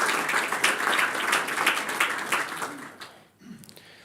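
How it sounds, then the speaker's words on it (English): Applause for Stefan and his team at an energy conference session, a crowd clapping steadily before the clapping thins and fades out near the end, leaving a quieter room. "So a round of applause for Stefan and his team."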